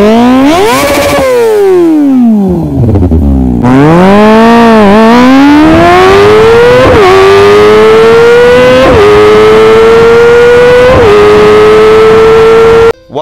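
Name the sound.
motorcycle aftermarket exhaust CLD Monster revving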